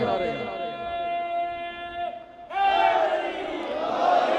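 A Muharram majlis congregation shouts a religious slogan in unison: a single voice leads with a drawn-out call, and then many voices answer together in a loud, sustained chant.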